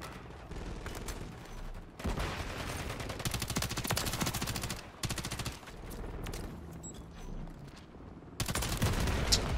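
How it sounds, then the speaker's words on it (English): Rapid bursts of shotgun and automatic gunfire from the Modern Warfare 3 video game, loud and dense in several long volleys separated by brief pauses. "A shotgun. That's a shotgun."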